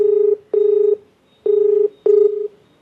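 Four touch-tone dialing beeps from a telephone placing a call, each a clean steady tone lasting under half a second, separated by short irregular gaps, with no voices.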